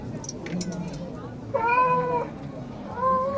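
A novelty manhole cover on a street in Bremen plays a recorded cat meow, two tonal, wavering calls in short succession over steady street background, with people talking nearby.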